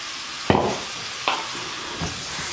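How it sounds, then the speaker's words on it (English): Garlic and mushrooms sauté in a hot pan for a crab mushroom omelet, a soft continuous sizzle broken by a few sharp stirring scrapes, close and alone. "while we're sauteing with mushrooms and getting them nice and brown and soft"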